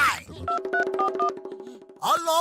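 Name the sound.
telephone being dialed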